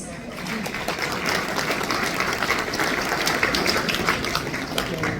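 A crowd claps steadily throughout at a folk festival pavilion event, a dense continuous patter of applause at moderate level.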